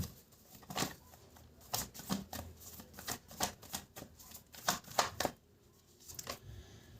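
A deck of reading cards is shuffled close up, producing repeated soft riffling bursts and flicks at an irregular rhythm, faint and alone without talk.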